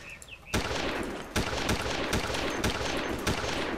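Artillery and napalm strikes pound the ground in the Vietnam War game Tunnel Rats, with repeated heavy blasts and rapid gunfire-like impacts arriving in quick succession, loud and close, with no voices.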